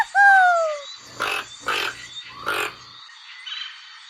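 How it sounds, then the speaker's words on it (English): A toucan gives a descending whistled note followed by three harsh, raspy croaks in a slow series, close and clear with no other noise. "Toucan."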